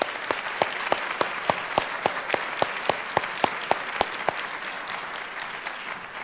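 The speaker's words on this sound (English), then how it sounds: "Please join me in applauding Dr." Steady applause from the audience at a December 2015 communication department graduation ceremony, with one loud, evenly paced clapper standing out over the crowd's softer clapping before the sound thins out.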